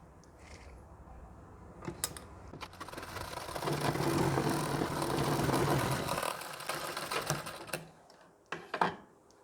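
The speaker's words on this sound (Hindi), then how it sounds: "अब इस आगे वाले पल्ले में भी हमें कमर वाले भाग में सिलाई लगा लेनी है और गले में सिलाई लगा लेनी है।" An electric sewing machine stitches the waist and neckline seams of a front blouse panel for a Nauvari saree blouse. It runs steadily for about five seconds, with a few clicks before and after.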